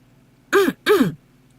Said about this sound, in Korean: 헛기침까지 몇 번 하시고는